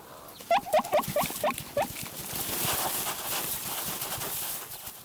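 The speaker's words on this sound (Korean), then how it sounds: "미어캣의 최대 적인 독수리의 접근을 알리는 경고음을 울립니다" Wild meerkats give a burst of about six sharp, rapid chirping barks warning of an approaching eagle, close and loud, followed by a softer rustling hiss.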